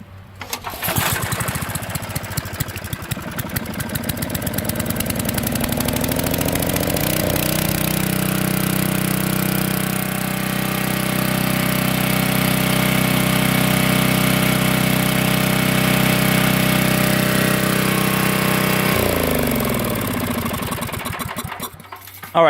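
A small gas engine with a choke starts on the first pull, revs up, then runs at a loud, steady buzzing idle close by for nearly twenty seconds before shutting off.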